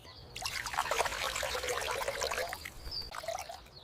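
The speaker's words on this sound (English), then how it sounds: "I water the bird bath." Water pouring into a backyard bird bath, a splashing trickle that starts, runs steadily, briefly eases and resumes, near and clear with no talking.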